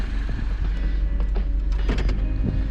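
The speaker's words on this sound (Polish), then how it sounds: "Czekajcie, muszę sobie odblokować klapę." Boot lid of a Mini Cooper S Roadster being unlocked, a short electric whir with a couple of light mechanical clicks, heard close and alone against a low steady hum.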